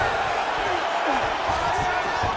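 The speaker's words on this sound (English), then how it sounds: "huge pop from the crowd as the fighters get back up to their feet" Crowd in the UFC 5 video game giving a big roar as the fighters get back to their feet, a dense, loud, continuous wash of arena noise throughout.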